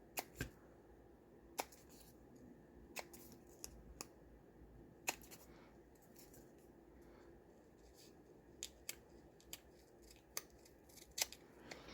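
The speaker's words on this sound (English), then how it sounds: "we're gonna cut the corners off." Scissors snipping the corners off paper tags, a series of sharp, close, quiet clicks at irregular intervals over a hushed background.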